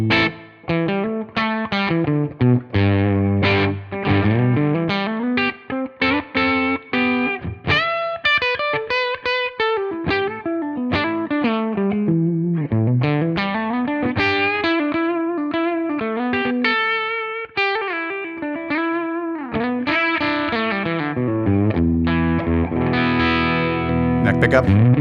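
Electric guitar on the bridge pickup, played through a Tonex amp model at push gain: loud, continuously overdriven riffs and sustained chords with gritty distortion, held notes bending and ringing out, no voices.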